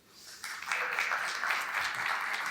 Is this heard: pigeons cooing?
no